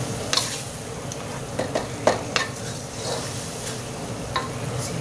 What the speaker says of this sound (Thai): ก็ผัดเข้ากัน